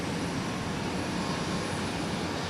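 An airliner taking off from runway 17 at Minneapolis–St. Paul Airport produces a constant, dense engine roar, loud and unbroken across the short stretch, with no voices over it.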